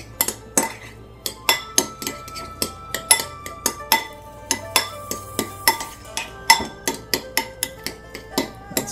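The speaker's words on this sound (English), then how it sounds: "So here we go, and now we're going to mix it all up." A spoon mixes spicy tuna with sriracha in a bowl, giving a steady run of sharp clinks and scrapes against the bowl, close and clear with no talking.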